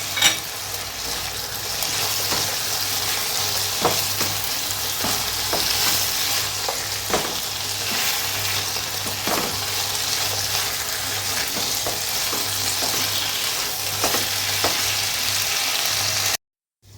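Dragon chicken with pre-fried cashews and fried chicken pieces being stir-fried in a pan, a steady sizzle broken by repeated scraping stirs at an uneven rhythm, close and fairly loud, ending abruptly near the close.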